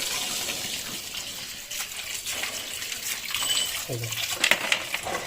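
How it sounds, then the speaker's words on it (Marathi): Tap water runs in a steady, splashing gush over crabs being cleaned, with a few faint clinks and brief tones partway through. "हे बघा पाणी चालू"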